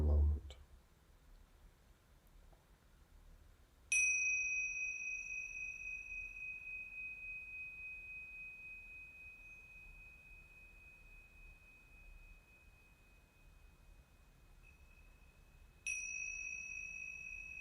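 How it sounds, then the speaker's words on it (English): Tingsha bells struck twice, each a bright clear ring that lingers and slowly fades over several seconds, with a quiet room between strikes. "I will ring the Tingsha bells 3 times"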